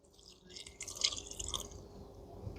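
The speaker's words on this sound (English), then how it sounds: "We'll put some more water in here." Water trickles and splashes faintly into pizza dough in a mixing bowl, a soft, brief pouring with light dripping at close range.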